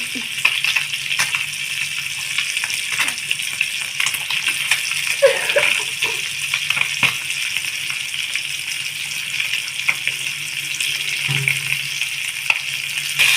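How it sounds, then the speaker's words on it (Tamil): Fish fries in hot oil, sizzling and crackling steadily, a continuous hiss with small pops throughout, no voices. "இப்போ பார்த்தீங்களா நம்ம ஃபிஷ் வந்து இந்த பக்கம் அந்த பக்கம் ஃப்ரை ஆகி"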